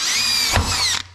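A power drill bores mounting holes for a transmission cooler on a vehicle, one steady high-pitched whine running close and loud before it winds down near the end.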